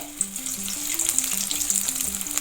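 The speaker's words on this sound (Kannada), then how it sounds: "ಎಣ್ಣೆ ಕಾದಿದೆ, ಹಾಕ್ತಾ ಇದ್ದೀನಿ." Soaked soya chunks frying in hot oil for a crispy soya chunk kabab, giving a steady, close, dense sizzle with faint bubbling throughout and no voices.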